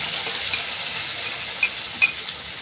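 Onion, tomato and green chilli paste frying in hot oil, a continuous bright close sizzle with a few sharper spits and pops.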